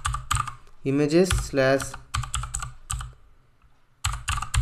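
Fast clicking on a computer keyboard comes in short bursts while someone talks over it, with a brief quiet gap before the typing starts again.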